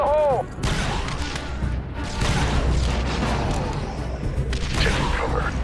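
Thermal detonator blast in Star Wars: Republic Commando, a loud booming explosion with rumbling debris and combat noise carrying on for several seconds, with radio voices talking underneath.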